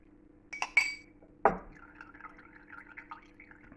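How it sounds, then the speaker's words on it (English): Homemade coconut milk strains through a cloth in a few soft drips and splashes, followed by a quiet, uneven trickle of liquid close by. "It's straining through."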